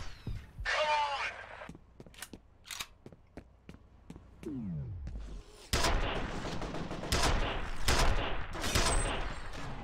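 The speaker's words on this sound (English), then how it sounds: "Stop shooting me, please." Gunfire in the horror shooter F.E.A.R.: scattered single sharp shots early on, then dense, continuous rapid-fire bursts that grow louder and busier toward the end, with a voice speaking.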